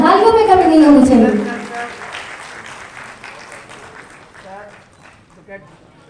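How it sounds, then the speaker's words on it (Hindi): Audience applause at an educators' award ceremony, loud at first, then thinning out and fading into scattered claps, with voices speaking over the tail end. "तो जोरदार तालियां, तालियों में कमी नहीं होनी चाहिए।"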